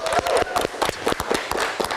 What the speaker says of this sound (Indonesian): Kita berikan tepuk tangan untuk Bernie